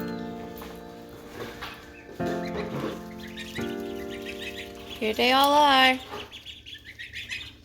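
Baby chicks and ducklings chirp in a small brood, with someone talking over them and a louder squeaking call rising briefly near the end.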